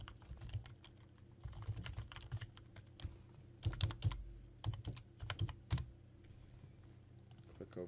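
Username being typed on a computer keyboard, quiet close clicking keystrokes in irregular bursts with short pauses between clusters, no talking.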